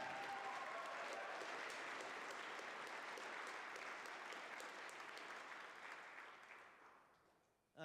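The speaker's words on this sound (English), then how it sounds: "So a nice round of applause for TJ" An outdoor audience at the Michigan Ice Fest gives a long round of applause that is faint and distant, slowly fading out before a sharp sound at the very end.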